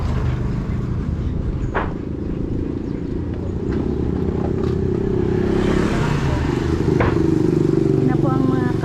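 A motorcycle tricycle engine passing on a Philippine street, a loud, close, rattling motor that holds steady throughout with some clatter.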